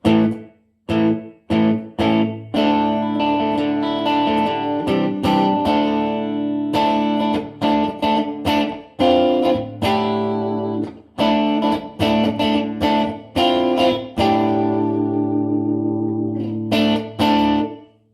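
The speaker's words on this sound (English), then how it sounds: "That sounds like a room reverb." Gretsch electric guitar through a vintage Marshall amp playing chords and single notes with a distorted, effected tone, washed in short room-like reverb, loud and continuous with brief pauses between phrases.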